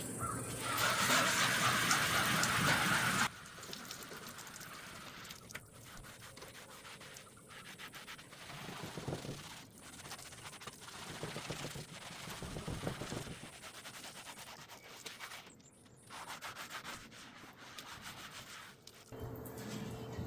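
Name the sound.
scrubbing moldy Blackstone griddle with soap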